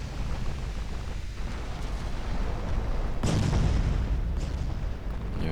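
Battleships trade naval gunfire in the game Ultimate Admiral Dreadnoughts, a low rumbling bed of distant cannon fire broken by one heavy booming salvo midway.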